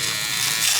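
An electric hair trimmer buzzes steadily and close while cutting hair, a brief continuous high whine.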